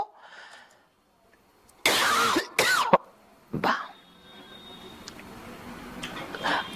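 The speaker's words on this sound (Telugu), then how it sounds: "ఈ దగ్గు కూడా ఎడిటింగ్లో వేయకండి" A couple of sharp, loud coughs in quick succession, followed by a quieter cough, over a faint background hum in an otherwise quiet room.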